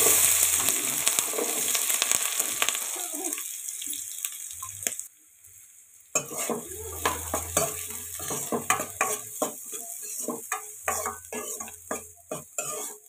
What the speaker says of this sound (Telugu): కట్ చేసి పెట్టుకున్న ఆనియన్స్, పచ్చిమిర్చి వేసుకోవాలి